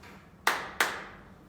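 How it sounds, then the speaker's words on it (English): A child claps hands twice during a table teaching session, two sharp, close claps about a third of a second apart, in an otherwise quiet room. "Clap hands."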